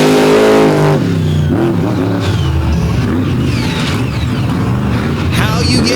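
John Zimmer's race truck Uproar launching on a run at a truck event in Fowlerville, a loud sustained engine roar with rising and falling revs, heard under an announcer's commentary throughout.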